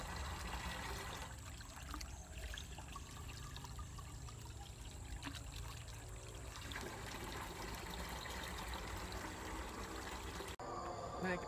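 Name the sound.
water trickling, collected from a spring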